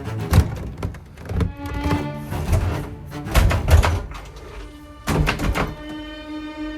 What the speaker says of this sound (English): I can't even close this door.